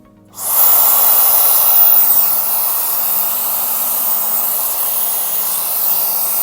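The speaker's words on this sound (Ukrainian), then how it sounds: "Прикольний фен." A Dyson hair styler switches on and blows a steady, loud rushing hiss of air that continues without pause.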